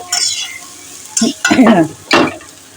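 A spatula stirs a chickpea and potato curry frying in a pan, giving three close bursts of scraping and sizzling after a quieter stretch of soft frying.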